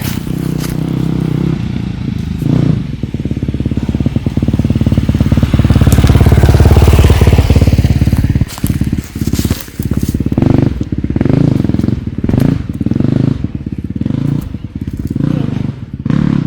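Engines of dirt bikes rumble and rise as they pass close by, roaring loudest midway, with crunching, scraping clatter and a voice speaking over the noise.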